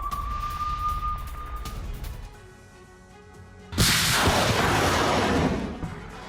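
A Ukrainian rocket attack on Russian forces, fired from HIMARS, sounds as a sudden heavy blast that erupts after a quieter stretch with a faint tone, followed by a loud sustained roar of rushing noise.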